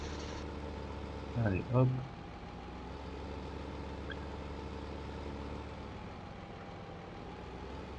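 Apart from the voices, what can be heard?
Ursus tractor engine in Farming Simulator 15 video game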